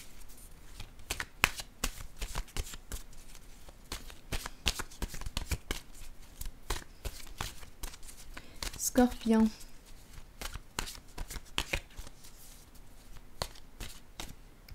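Tarot cards are shuffled close by in a steady run of soft riffling slaps and flicks while someone speaks French over them.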